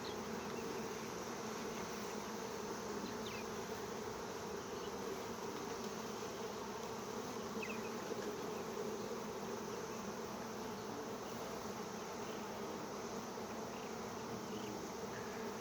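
A honey bee swarm drones steadily and densely throughout, a continuous close buzzing from many bees with no pauses, heard outdoors during a swarm capture.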